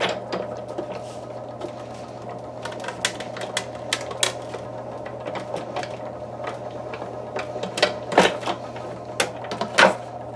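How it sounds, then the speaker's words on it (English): Foiled cardstock cut in a manual die cut machine, a steady low hum under repeated sharp clicks and mechanical taps that grow louder near the end, close and with no talking. "send it through my manual die cut machine"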